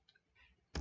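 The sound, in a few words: computer mouse clicking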